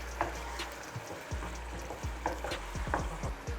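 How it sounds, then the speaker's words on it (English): Yam and vegetable sauce is stirred in a pot, a spoon scraping and clacking in irregular strokes over a faint, steady simmering sizzle. "I'll give this a good stir"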